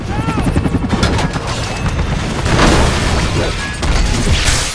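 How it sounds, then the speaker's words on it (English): A movie helicopter's rotor thrums as a sniper's gunfire and heavy impacts hit, with loud crashing bursts building into a roaring, chaotic collapse into flames, all close and intense. "as the helicopter approaches, a sniper's bullet strikes it from a distance, causing it to crash and erupt into flames"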